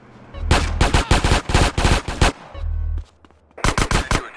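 Rapid bursts of video game gunfire from GTA San Andreas, loud and close, several quick volleys in the first half, then a pause and another burst near the end.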